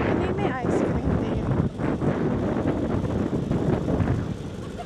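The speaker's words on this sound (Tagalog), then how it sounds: "Sobrang hangin." Strong wind rumbles steadily across the microphone at La Perouse Beach, Australia, with indistinct voices mixed in beneath the gusting roar.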